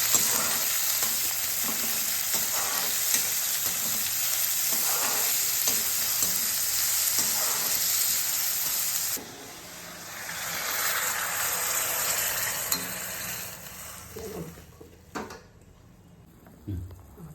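Onions sautéing in a pan after urad and chana dal for wheat rava upma: a steady broadband sizzle with stirring scrapes, easing to a softer bubbling hiss partway through, then a few clinks near the end.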